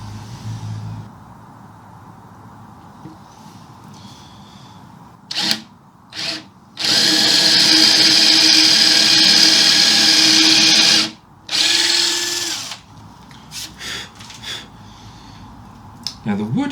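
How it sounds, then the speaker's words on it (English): A power drill whines through cedar in several bursts, one long sustained run in the middle and shorter pulses around it, with quiet room noise between. "When I drill these holes, I don't really want to go any deeper than is required."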